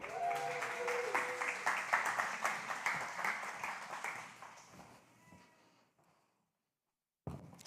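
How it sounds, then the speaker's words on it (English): An audience applauds in a steady burst of clapping for about five seconds, close and lively, then fading away into silence before a brief sound returns at the end. "Please clap for Hannah."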